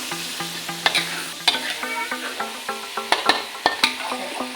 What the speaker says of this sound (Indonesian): Setelah itu kita masukkan ikan. Kita aduk sebentar.